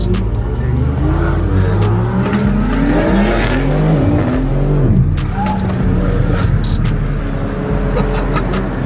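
A BMW G80 M3 launches hard at a car meet, its engine roaring loud and close as the tires tear up gravel with rising revs and skidding scrabble, steady and continuous throughout.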